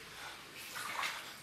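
Floodwater in a flooded bathroom, a steady close hiss of running and splashing water, continuous and moderately loud for a brief moment.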